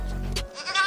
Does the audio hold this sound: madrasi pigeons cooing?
no